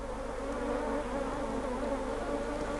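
Honeybees from a problem swarm drone in a dense, continuous buzz close by during a hive check, with no talking.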